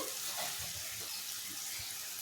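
Prawns dropped into a pan of curry with coriander powder and turmeric for a prawn and drumstick curry, giving a steady close sizzle and frying hiss with faint stirring, no voices.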